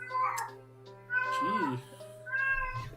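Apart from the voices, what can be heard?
cat meowing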